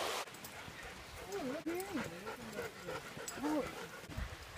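Dogs pant rapidly and whine outdoors, a steady rhythmic huffing with rising and falling whimpers, heard close under people talking.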